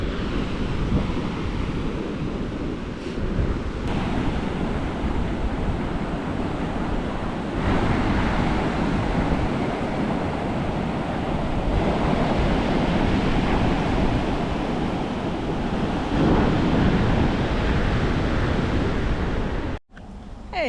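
Surf rolls in steadily at Rainbow Beach, a broad, continuous wash of breaking waves with gusting wind buffeting the microphone, loud and unbroken until a brief dropout near the end.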